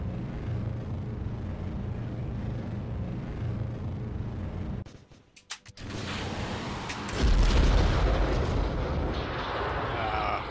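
Rocket stage separation in Kerbal Space Program: a steady engine roar cuts out into a brief dip of sharp clicks and pops, then the roar returns and swells louder and deeper as the next stage burns.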